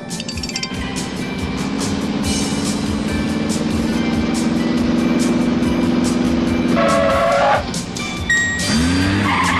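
Car engine and tire noise from a TV chase scene, a steady loud drone that swells for several seconds, then cuts off sharply near the end before a brief rev returns, with clinking and skidding sounds mixed in.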